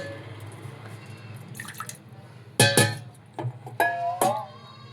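Water poured into a pot of sambar being cooked with ragi mudde, a few close splashing pours and drips in a quiet kitchen.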